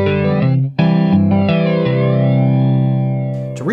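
Sustained electric guitar notes with a sweeping, swirling homemade modulated delay, made by slowly varying the delay of a duplicated signal, the pitch-wobbling echoes drifting over a few seconds after a brief break.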